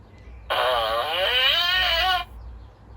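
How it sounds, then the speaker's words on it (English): A recorded fart sound billed as a French fart, a single loud, wavering, bleat-like tone lasting under two seconds that rises and falls in pitch before cutting off, with no talk over it. "And this is what the French fart sounds like."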